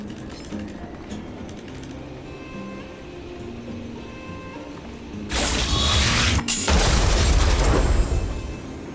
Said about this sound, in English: Please take control of the Automaton Spider and trigger an explosion to disperse the disruptive workers.